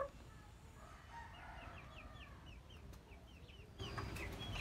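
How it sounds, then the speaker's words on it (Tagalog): Chickens clucking and a rooster crowing in a rural yard, a series of short chirpy calls repeating over steady background noise, moderately near, with no talk. "Tingnan natin mga manok."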